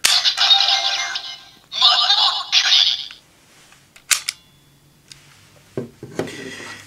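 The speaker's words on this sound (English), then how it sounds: "And then the unlocking sound." A Kamen Rider DX Lock Seed toy's electronic unlocking effect: bright, buzzy chirping bursts, then a few sharp clicks and small mechanical taps close by.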